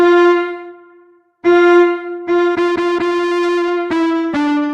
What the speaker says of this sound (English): Turn your cello into an electric guitar.